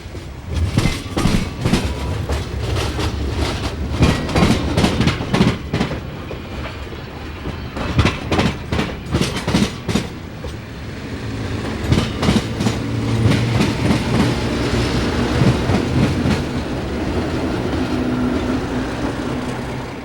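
A freight train rolls east along the main line on the Green Bay route in Wisconsin, with a loud, rhythmic clickety-clack of wheels over rail joints that comes in clustered beats, then settles into a steadier rumble.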